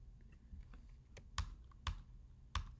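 Several sharp, distinct keystrokes ring out from a computer keyboard as command and arrow keys are pressed during editing in After Effects. The taps are close and crisp, spaced irregularly over quiet room tone, with no voices.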